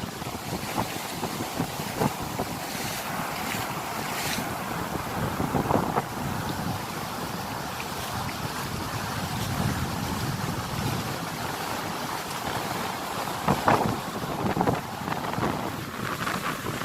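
Wind gusting and ocean waves washing ashore on a beach, a steady broadband roar with occasional stronger surges and wind buffeting the microphone, continuous throughout with no voices.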